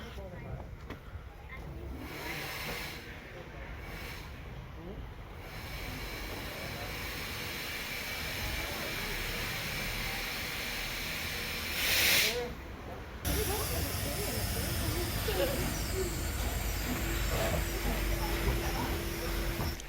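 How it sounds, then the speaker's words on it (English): A Talyllyn Railway steam locomotive shunts its train back onto the head shunt, giving off a steady, loud hiss of steam with low rumbling movement beneath, continuous for the whole stretch, with a brief louder burst midway. "The first exercise is a shunt of the whole train back onto the head shunt for maximum platform"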